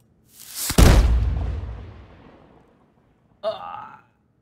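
A cannon fires once with a loud, close boom that rumbles away over about two seconds, followed after a pause by a short, rough vocal-like burst.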